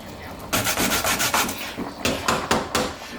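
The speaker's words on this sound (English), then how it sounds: "all I'm doing is grating the cassava now to get a sort of a paste out of it" Raw cassava is grated by hand into a paste, producing close, rhythmic rasping strokes that repeat in quick bursts with short pauses between them.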